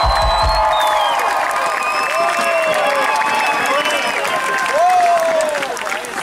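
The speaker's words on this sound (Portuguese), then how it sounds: "vou pedir uma grande salva de palmas à melhor equipa técnica do mundo" A big crowd at the Funchal Music Fest 2012 rock concert roars, cheers and claps loudly, with shrill whistles and whoops rising repeatedly over a steady wall of applause and shouting voices.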